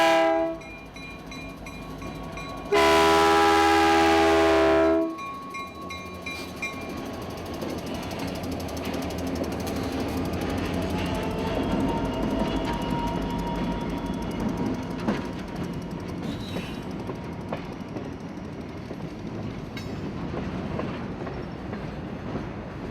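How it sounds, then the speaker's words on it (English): A CSX freight train pulls rusty old stored cars off an industry lead onto the main line, with a loud horn blast near the start followed by a long stretch of creaking, squealing wheels and clanking cars rolling past. "watching very carefully as these rusty old cars move out onto the main line"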